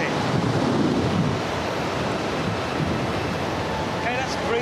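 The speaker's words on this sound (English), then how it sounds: "Okay, that's breezy." Strong, steady wind roars and buffets the microphone in a typhoon simulation at about 40 kilometres an hour, a continuous loud rush with faint talk underneath.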